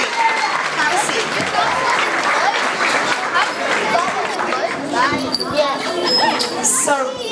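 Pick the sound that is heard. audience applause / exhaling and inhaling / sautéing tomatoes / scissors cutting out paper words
audience applause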